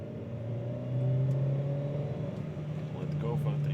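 A car engine is held at full throttle from about 2000 RPM during a catalytic converter test, giving a steady, humming drone that rises slightly in pitch and volume and then holds.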